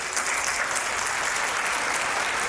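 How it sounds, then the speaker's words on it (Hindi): Audience at a Hindi poetry recital clapping, a dense steady wash of applause held at even loudness throughout. "तालियां कमजोर रह गई आपकी"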